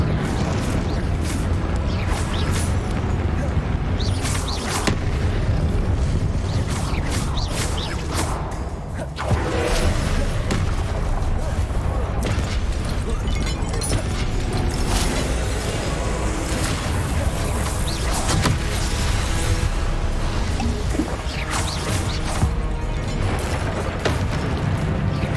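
Spell-casting blasts in the Hogwarts Legacy video game, with booms, whooshes and crashing impacts piling up densely and loudly throughout, mixed with game music and combat noise.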